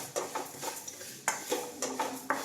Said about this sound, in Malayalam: കറിവേപ്പില ആ ജീരകത്തിൻ്റെ കൂടെ തന്നെ നമുക്ക് ഇട്ടിട്ട് ഇതൊന്ന് വറുക്കാം, ചൂടാക്കി എടുക്കാം